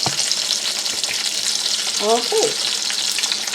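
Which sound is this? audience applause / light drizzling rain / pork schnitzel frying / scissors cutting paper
pork schnitzel frying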